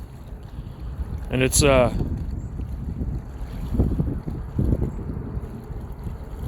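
Strong wind buffets the microphone while a Potensic Atom drone flies into a headwind, a steady low rumble with gusts, and someone speaks briefly over it near the start.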